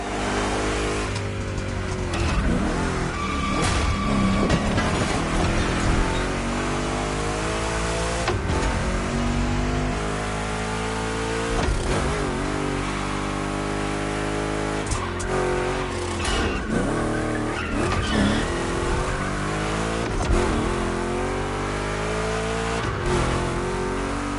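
Loud big-block Chevy race cars in The Crew Motorfest roar and rev continuously, gears shifting with rising and falling pitch, tires squealing now and then, with no voices.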